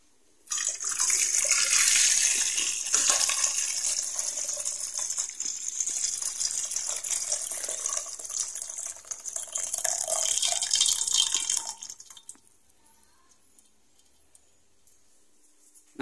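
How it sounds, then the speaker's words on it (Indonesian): Boiling water poured out of a pot while making cincau with coconut-leaf ash, a loud, steady close splashing gush that fades out abruptly into near silence at the end. "untuk si air mendidihnya tadi kita buang."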